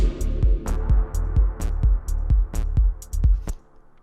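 A programmed techno drum loop built in Ableton Live, with snare hits placed on the offbeat between steady kick drums, repeating evenly for several bars before stopping near the end.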